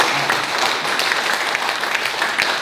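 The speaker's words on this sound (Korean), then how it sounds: "박수로 한번" Applause from a congregation at a monthly mass, a steady, dense round of clapping that carries evenly from start to finish with no voices over it.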